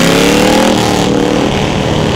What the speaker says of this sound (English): explore why we love the sound of a motorcycle